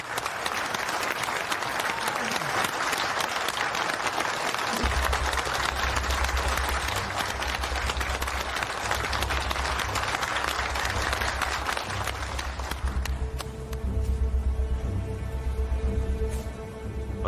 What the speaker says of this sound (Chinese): 我们大家以热烈的掌声欢迎她的首次演出